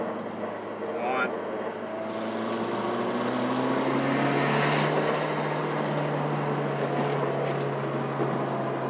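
A tuned turbocharged car with the boost controller switched off revs up to 5,000 rpm in a test pull, a steady loud engine drone rising in pitch over several seconds, with wind noise and occasional voices in the background.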